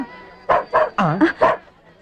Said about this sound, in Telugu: ఆ కుక్కేంటి?